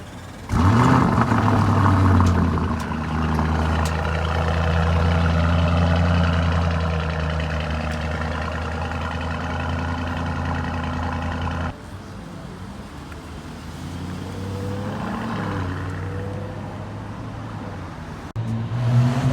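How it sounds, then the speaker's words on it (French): A McLaren Senna on the streets of Monaco during the Grand Prix, downshifting and then accelerating hard to the rev limiter, with a loud, close, rising engine howl, then a cut and a quieter revving passage. "là c'est rétrogradage devant nous et accélération jusqu'au rupteur"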